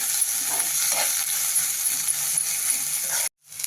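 A paste of ginger, garlic, coriander and green chili sautés in a hot pan with asafoetida, a loud, close, steady sizzle that cuts off abruptly near the end.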